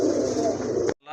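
Pigeons coo amid the dense, steady din of a busy pigeon market, a close, full wash of bird calls and crowd noise that cuts off abruptly near the end before faint sound returns.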